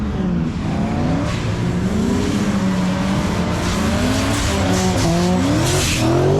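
Drift cars, mostly BMWs, at an after-work drift event in Switzerland roar continuously with loud, rising and falling tire squeal as they slide past, nearby and unbroken, with no talking.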